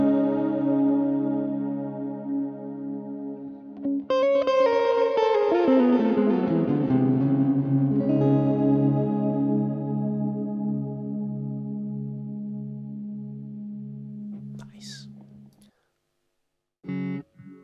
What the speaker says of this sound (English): interesting sweep echo.